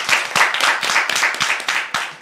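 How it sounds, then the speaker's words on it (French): Audience applause for a pastor at a church gathering, dense continuous clapping from a crowd filling the whole moment, fairly loud and steady. "On peut applaudir bien fort le pasteur."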